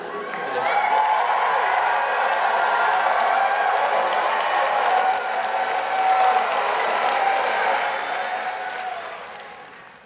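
A crowd of about 2,000 people claps and cheers before a show, a dense, steady wash of applause that holds for about ten seconds and fades slightly at the end.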